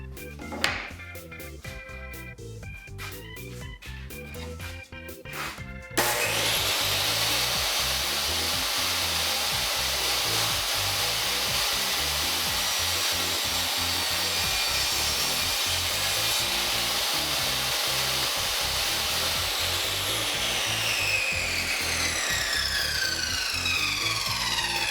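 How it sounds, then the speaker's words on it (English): Dewalt DWE7480 jobsite table saw cutting through wood: a few seconds of clattering handling noise, then a loud, sustained high-pitched motor whine and blade roar for about twenty seconds, close up and alone. "So we're gonna try to cut this."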